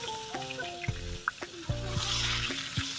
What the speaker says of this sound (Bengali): আলুগুলোকে ভালো করে ভেজে নিতে হবে